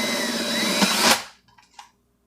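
A power drill whirs as a larger bit bores a hole, rising briefly then cutting off after about a second, followed by a few faint clicks and knocks.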